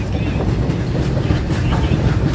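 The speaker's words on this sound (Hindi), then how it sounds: "अभी हमारी ट्रेन से पैरेलल ओवरटेक हो रहा है गुड्स ट्रेन का" A goods train runs parallel to a moving Indian intercity passenger train, overtaking it, giving a loud continuous rumble and rattle with rhythmic clickety-clack of wheels on rail joints.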